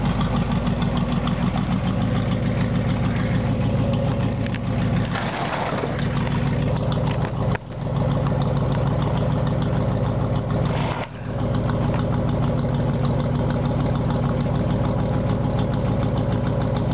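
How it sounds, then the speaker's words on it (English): A propane-fuelled 1994 Chevy truck engine idles steadily and smoothly, a loud continuous low rumble with a couple of brief dips, running alone without talk. "Real smooth running engine. You know, it's on propane, which is so cool."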